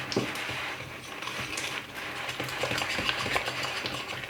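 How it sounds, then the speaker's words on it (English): Honey, molasses and soft room-temperature butter are creamed together in a bowl, giving a continuous scraping, clicking stir with rapid irregular ticks of utensil against the bowl, close and fairly loud, with no voices. "So now we just need to cream together our honey, our molasses, and our butter."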